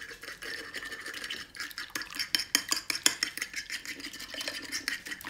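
Sugar being stirred into a French toast egg mixture in a plate, with a steady run of close scraping and clinking strokes from a utensil against the dish, getting brisker midway.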